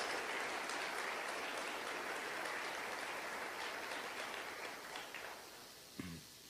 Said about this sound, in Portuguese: Se é para aplaudir ao Senhor, aplauda com vontade, em nome de Jesus.